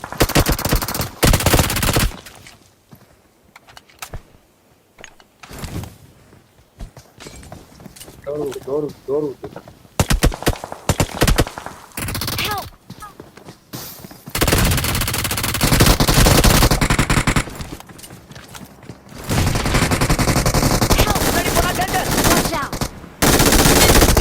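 P90 submachine gun fire in the BGMI mobile battle game comes in loud rapid bursts, with quieter stretches between them and game effects in the gaps.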